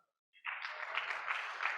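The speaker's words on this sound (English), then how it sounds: "Go ahead and clap." A conference audience breaks into clapping after a brief quiet moment, a sudden burst of many hands that holds steady and moderately loud to the end.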